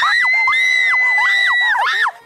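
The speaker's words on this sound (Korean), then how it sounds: "밖에서 소리 지르는 게 들렸어." Several high-pitched voices scream together in overlapping, swooping shrieks, loud and close for about two seconds before cutting off sharply.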